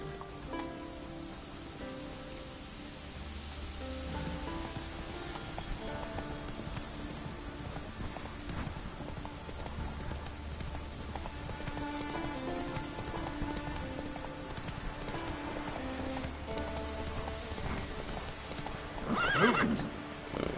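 A horse gallops in The Witcher 3 game world, its hooves clip-clopping steadily and close for the whole stretch while rain patters on the ground, with a brief whinny toward the end.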